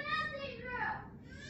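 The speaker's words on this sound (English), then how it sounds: "You can hear my kids screaming at each other in the background." Children scream and shout at each other somewhere in a home, their shrill, rising voices faint and in the background, carrying through the whole stretch.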